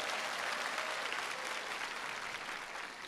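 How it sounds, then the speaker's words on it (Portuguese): A crowd at a Catholic talk bursts into steady, even applause that fills the whole stretch at a fairly faint, distant level. "Uma salva de palmas, século XXI."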